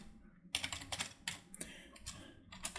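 Quick, irregular bursts of clicking keystrokes on a computer keyboard, close and fairly quiet, with short pauses between clusters of typing.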